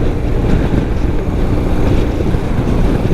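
A 1993 BMW R100GS motorcycle ridden in fourth gear through an industrial part of town, heard as a steady loud engine rumble mixed with heavy wind noise, continuous without breaks.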